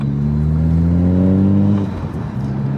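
A BMW 135i E82 tuned to 600 hp idles high while warming up, a loud close-up engine drone with steady rising harmonics that eases off near the end into a lower, rougher rumble.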